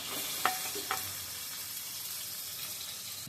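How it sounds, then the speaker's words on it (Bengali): Potatoes frying in a pan give a steady, close sizzle. Two sharp utensil clicks land near the start, and no one speaks. "আলুগুলো ভাজা হয়ে গেছে।"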